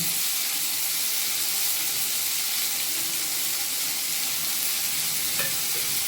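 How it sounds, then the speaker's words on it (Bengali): Ginger with chilli, coriander and cumin powders fries in oil in a pan for a katla fish curry, producing a loud, constant bright sizzle that holds steady throughout with no talking. "ভাজতে ভাজতে সব মশলাগুলো একে একে দিয়ে দেবো।"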